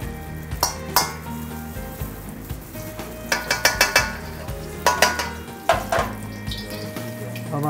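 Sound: ghee sizzling in pan for Himali potatoes

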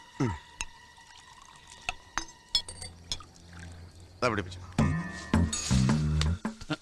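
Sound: pouring cold water

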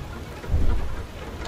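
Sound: hail and stormy weather in the video game FAR: Lone Sails

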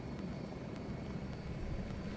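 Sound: drone flying overhead in the video game The Culling

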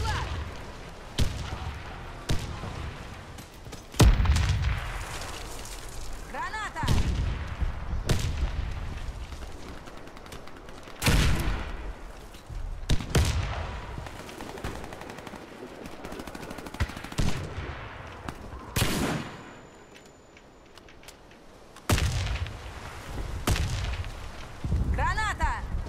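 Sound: grenade explosion and gunfire in the video game Warface

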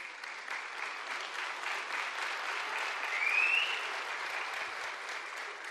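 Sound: applause at rally started by a pensioner

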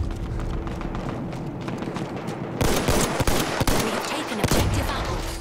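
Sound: gunshots in the video game Battlefield 1

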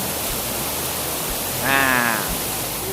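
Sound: Wat Khao waterfall in Phang Nga

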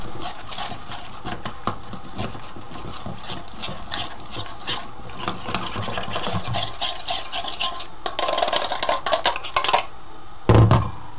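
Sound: stirring flour with water and cream in a bowl

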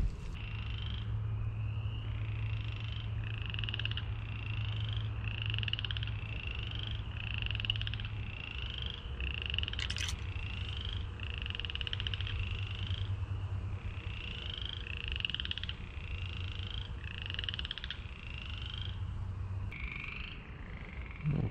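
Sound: tree frog chattering

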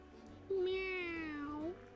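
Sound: cat meowing in SpongeBob Battle for Bikini Bottom video game

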